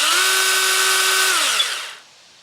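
A Ryobi 6-inch battery pruning saw runs alone at close range with a steady, high motor whine for over a second, then winds down and fades out.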